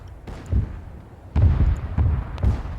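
Ship magazine explosions in Arma 3 boom in a short series of deep, heavy blasts, four or five thuds spaced irregularly, moderately near, with no voices over them.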